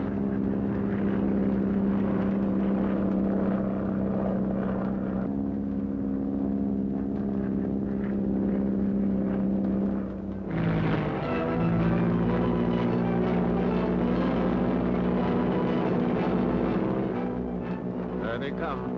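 A squadron of propeller aircraft, equipped with a bombing device and seen in a 1939 film, drones steadily overhead. The engine roar shifts and swells midway as the planes pass, and people talk quietly beneath it.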